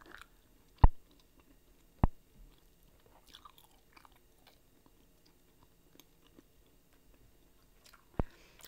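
Korean teddy bear bubble gum being chewed close up: a quiet, soft chewing background broken by three sharp, isolated snaps spread across the stretch.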